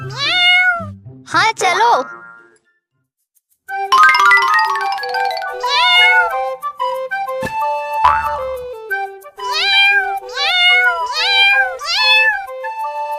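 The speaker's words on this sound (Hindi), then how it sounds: "ये बच्चे इतनी मियाऊ मियाऊ क्यों कर रहे हैं?" Cartoon kittens meowing over and over in high, bouncy cries, mixed with bright chime tones, while a child-like voice speaks briefly in between.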